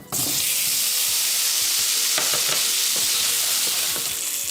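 Potatoes fry in a hot pan of butter and olive oil, giving a loud, continuous close sizzle with crackling pops and bursts as they settle, and no talking.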